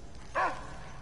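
A single short dog bark from the Mad Max video game, one clear yelp standing alone against a low steady background hum.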